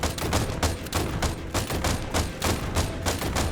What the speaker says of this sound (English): They're using shotguns, so they are not really good at long range.